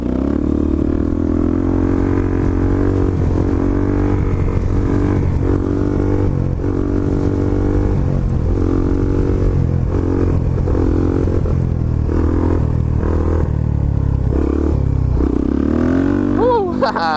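A supermoto motorcycle engine drones and revs steadily and close during a wheelie, a loud continuous motor sound with a rider talking over it.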